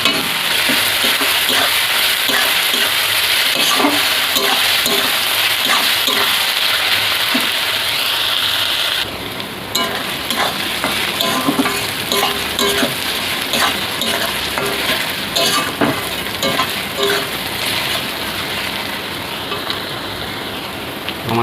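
Onions sizzle steadily in a hot pan as they fry until reddish with a pinch of salt, for a spicy desi rooster curry cooked on a rainy day. Scraping stirs break through the dense, continuous hiss, with a brief pause partway through.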